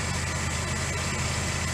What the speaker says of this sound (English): So impressed with the motor. Runs great.